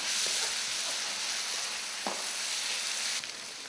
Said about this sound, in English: Meanwhile, keep stirring the onions.